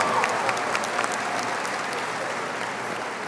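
A high school graduation ceremony audience applauds, dense sustained clapping from a large crowd filling the room at a steady level throughout.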